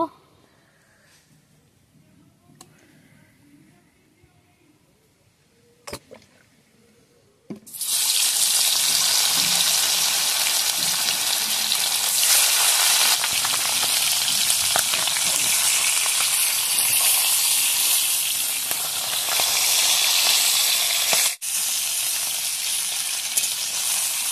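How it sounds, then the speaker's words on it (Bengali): Fish frying in oil for a mach kochu dish, a loud steady sizzle that erupts after a quiet stretch of faint kitchen noises and holds strong to the end. "এবারে আমি মাছটা ভেজে নেব।"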